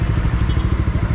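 A Bajaj Dominar 400 motorcycle engine runs steadily at idle, a close, loud low-pitched thumping pulse that holds even and unbroken throughout.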